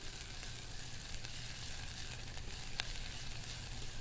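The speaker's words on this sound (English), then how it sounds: "we're going to give this a quick stir" Ginger stirred into a pot of pumpkin soup, giving a steady, faint sizzling hiss with a soft scrape of the spoon, continuous and close.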